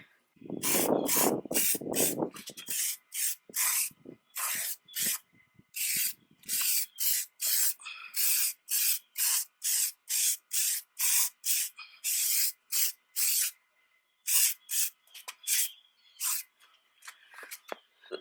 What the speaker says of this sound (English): It doesn't have a lot of product and you have to spray a lot.